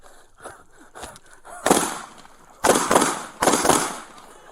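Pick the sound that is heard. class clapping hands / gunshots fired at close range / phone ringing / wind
gunshots fired at close range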